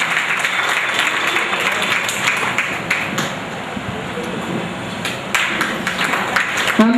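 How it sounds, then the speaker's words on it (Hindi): A Guru Purnima gathering in Pimpri welcomes women invited to offer garlands with audience applause: a dense, steady patter of many hands clapping at moderate volume that holds for about seven seconds, with a brief lull midway. "तालियों के साथ स्वागत करेंगे।"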